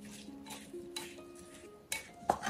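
Seasoned ingredients get mixed in a bowl with a utensil, giving soft scraping strokes and a few sharper clinks against the bowl near the end, close and fairly quiet.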